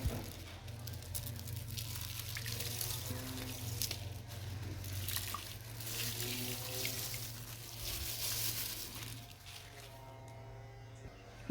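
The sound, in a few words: washed basmati rice being added to a pot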